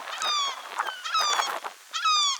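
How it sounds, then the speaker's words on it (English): Seagulls call from a hilltop in three bursts of harsh, nasal, honking cries, fairly close and clear, with short pauses between the calls and no talking. "Seagulls."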